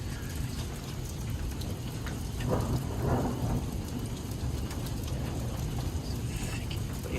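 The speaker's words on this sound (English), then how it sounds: "Yeah, there's some hail." Steady heavy rain pours down from under a porch awning during a severe thunderstorm with hail in Edwardsville, Illinois, a dense continuous wash with a low rumble of thunder swelling briefly in the middle.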